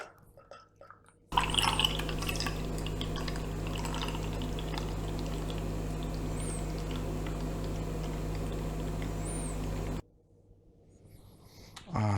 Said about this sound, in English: let's grab the Guinness glass and let's get it poured out